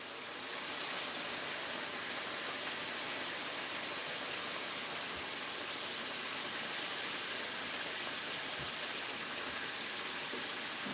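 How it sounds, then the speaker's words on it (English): Oscar Mayer breakfast meat sizzling in a pan, a steady broadband hiss with faint crackle that holds evenly and fairly loud for the whole stretch, with no talking over it. "God, I love that sizzle."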